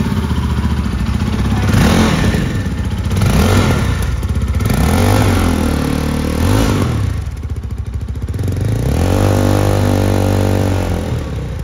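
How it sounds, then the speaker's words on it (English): A 2024 Jawa 42 FJ 350 motorcycle runs with its exhaust loud and close, idling with a throbbing beat and rising in several revs before settling back. "how's the exhaust sound of this motorcycle? So let's hear it."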